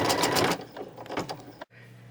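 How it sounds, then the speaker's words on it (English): An embroidery machine stitching out felt flowers whirs steadily and loudly, its rhythmic needle pulsing in bursts before slowing and cutting off abruptly, then a quieter hum resumes. "So it has finished stitching out all 6 of my flowers."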